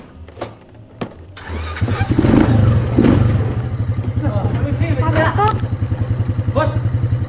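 A motorcycle engine cranks with a couple of sharp starter clicks, catches, and settles into a loud, steady, throbbing idle close by while people talk over it.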